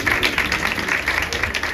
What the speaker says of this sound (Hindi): ताली बजाइए प्रभु को।